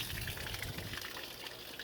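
Rainwater gushes steadily out of a boat's open drain plug hole after heavy rain, a continuous splashing flow of water, close and moderately quiet, with no talking.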